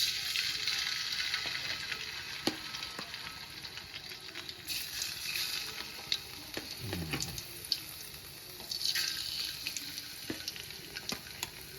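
Fish sizzles and spatters in hot oil in a wok in a village kitchen, a steady broadband frying hiss with occasional sharper pops and a brief bubbling burst, no voices.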